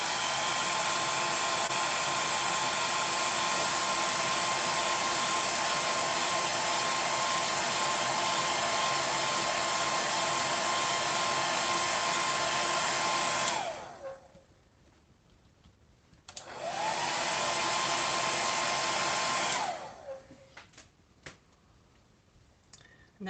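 A hair dryer blows steadily and loudly over watercolour paint for about fourteen seconds, cuts off, then runs again for a few more seconds before stopping, with a few small clicks in the quiet gaps.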